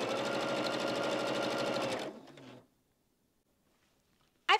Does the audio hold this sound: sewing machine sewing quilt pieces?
yes